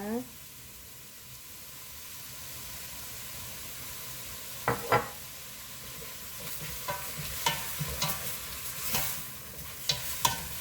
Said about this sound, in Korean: 한번 살짝 이렇게 볶아줍니다.